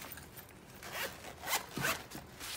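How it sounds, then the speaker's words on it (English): Zipper on a compact 72-slot art supply pencil case runs open in several quick rasping pulls, close and fairly quiet, with short pauses between strokes. "The zippers seem to work well."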